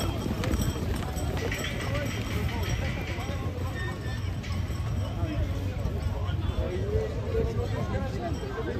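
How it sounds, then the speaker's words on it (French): Horses and bulls run past across fields at an abrivado festival in Quissac, a steady patter of hooves under continuous crowd chatter and someone narrating over it. "deux taureaux et il y a le cheval qui revient"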